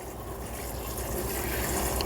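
A little water is poured into a pan holding pupunha (peach palm) after olive oil, giving a steady soft hiss and splash that swells slightly, with no talking.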